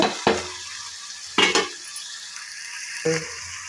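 Bitter gourd fries in oil with tomato, heard as three sharp spatula scrapes and clatters against the pan, each fading into a faint, low sizzle between strokes.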